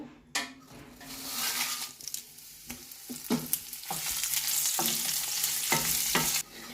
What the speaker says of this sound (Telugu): ఇదే పాన్లో కొద్దిగా ఆయిల్ వేసుకొని ఈ ఎండుమిరపకాయలు వేయించుకున్నాము